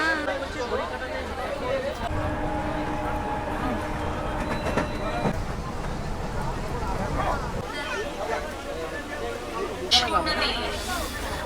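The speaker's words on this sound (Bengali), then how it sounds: "ট্রেন কিন্তু এখন নন্দকুমার থেকে ছেড়ে বেরোচ্ছে" A local train pulling out of Nandakumar station on a Howrah to Mandarmani run, with continuous rumbling and rail clatter, passing bangs and rattles, and passenger chatter throughout.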